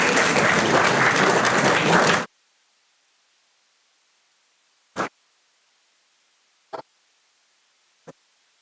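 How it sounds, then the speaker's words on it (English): Audience applause at an international conference on communication, security and artificial intelligence, a dense burst of clapping that stops abruptly, followed by a few isolated single claps in the quiet. "Can you please have a huge round of applause?"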